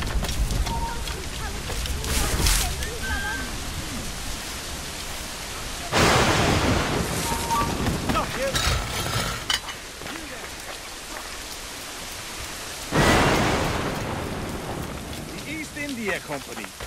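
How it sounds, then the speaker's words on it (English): Heavy rain pours steadily in a storm within the video game Assassin's Creed Rogue, broken by three loud thunder cracks that roll and fade, with brief faint voices between. "The storm's getting worse."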